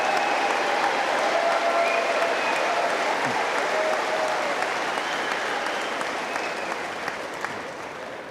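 Sustained applause from a large audience at a university undergraduate commencement ceremony, steady and dense clapping filling the hall, holding strong throughout and tapering only slightly toward the end.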